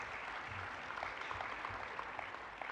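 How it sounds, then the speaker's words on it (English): Faint, distant audience applause for Chief of Staff Nicholson at a conference opening session, a soft continuous patter of many hands that stays even and low throughout. "Let's give him another round of applause"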